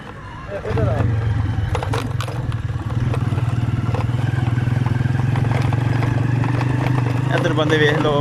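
A motorcycle starts up and pulls away on a rural road, its engine rising suddenly to a loud, steady drone that stays close throughout, with a voice talking over it.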